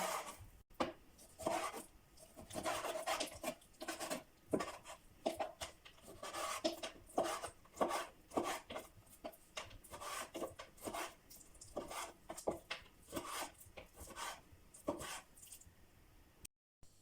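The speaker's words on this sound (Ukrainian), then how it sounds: "Куряче філе нарізаємо невеличкими кусочками у довільній формі." A knife slices raw chicken fillet into small pieces for a creamy chicken curry, giving a steady run of close, soft cutting and rubbing strokes on a board with an uneven rhythm and no talk.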